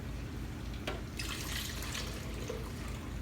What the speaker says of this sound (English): So you can go ahead and pour your milk in.